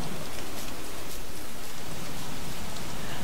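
Steady rain falls in the survival game Don't Starve: Reign of Giants, a dense, continuous hiss of drops that stays loud and even throughout, with no voices.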